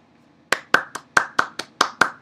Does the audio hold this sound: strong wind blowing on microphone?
no